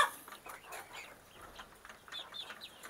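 Free-range village chickens on a small backyard poultry farm cluck softly and intermittently, fairly faint against light outdoor background noise, with no talking.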